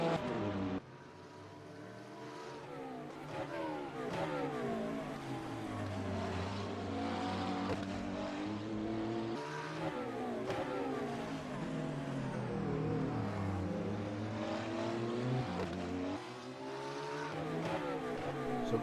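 GT3 race cars circle the Singapore Marina Bay circuit in a racing video game, their engines whining continuously with rising and falling pitch through repeated upshifts and downshifts, loud and close with no talking.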